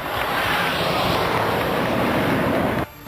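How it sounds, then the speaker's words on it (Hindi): An Indian Air Force Mirage 2000 fighter jet touches down on the Agra-Lucknow Expressway with a loud, steady, broadband roar that fills the clip, then cuts off abruptly near the end. "सबसे पहले उतरा मिराज 2000 फाइटर प्लेन।"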